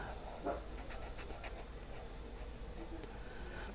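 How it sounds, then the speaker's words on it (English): A dog pants faintly and steadily at a distance, with a brief whimper near the start, under low background noise. "Oh, that dog."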